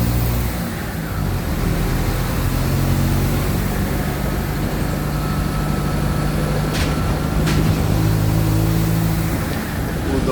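A Mercedes-Benz OF-1722M city bus engine runs with a steady deep rumble from inside the moving bus on a route, loud and continuous for the whole stretch, with no talk.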